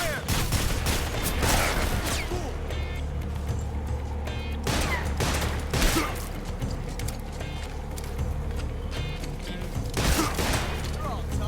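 A squad opens fire in the video game Metal Gear Solid Delta: Snake Eater, bursts of rapid gunshots and sharp cracks repeating over several seconds with a steady low rumble beneath and occasional voices.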